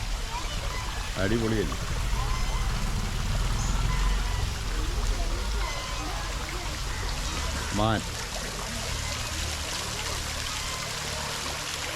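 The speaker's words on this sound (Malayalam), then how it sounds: "വെള്ളം ഇങ്ങനെ ഇതുവഴി ഒഴുകി വരികയാണ് കേട്ടോ" A small waterfall stream rushes steadily, a dense, loud wash of flowing water running throughout, with someone briefly talking over it.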